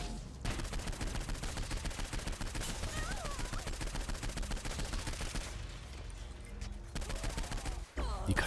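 Rapid, dense gunfire from weapons in the video game Saints Row 4, continuous bursts of automatic shots with a few brief gaps, loud and close.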